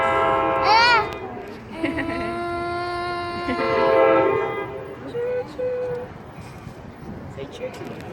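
A train approaching a New Jersey crossing sounds a loud, sustained multi-tone horn in a few long blasts, with rumbling wheels beneath and a child and an adult speaking nearby.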